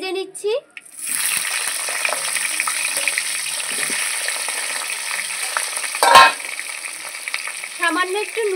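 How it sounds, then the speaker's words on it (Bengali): Potatoes frying in the oil left from frying aar fish, a steady close sizzle with occasional stirring clatter and a louder scrape midway, with a voice speaking briefly at the start and end. "মাছ ভাজার তেলে আমি আলুগুলো ভেজে নিচ্ছি।"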